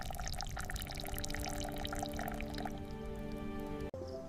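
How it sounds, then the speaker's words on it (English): Cola syrup trickling and dripping through a filter, a close, continuous wet pattering with bubbling texture that runs throughout, broken by a brief sharp tap near the end. "The syrup is filtered until smooth."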